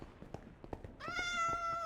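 A cat meowing in the Minecraft video game, a single clear drawn-out meow in the second half following a few soft taps and thuds.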